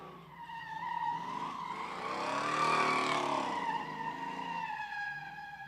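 A Hemi-powered car revs hard while its tires skid and squeal, the sound swelling to a loud peak in the middle and then easing off, with no talk over it.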